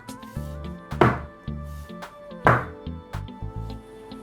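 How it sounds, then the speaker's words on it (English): A cake tin full of thick batter is banged hard on a flat counter twice, each one a sharp, heavy thunk rising above soft background music. "2 or 3 hard bangs like that, and your batter should settle evenly."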